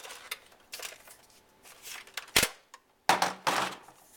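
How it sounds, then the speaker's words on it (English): Nerf Rayven blaster magazine being handled as a foam dart is pushed in, giving a few sharp plastic clicks and snaps spread across a short quiet stretch, close and fairly loud, with no talking. "Let me just pop in a dart really quick."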